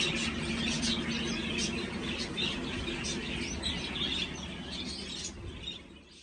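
Zebra finch chicks chirp in a steady, dense chorus of high, rapid peeps, close by and continuous, fading slightly toward the end.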